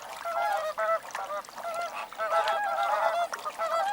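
Flamingos call at an alkaline lake, a dense flock honking in overlapping nasal bursts, loud and continuous with short gaps, no voices.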